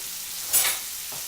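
Turkey sausage seasoned with Goya adobo sautéing in a pan, a brief steady sizzle with a short louder hiss midway.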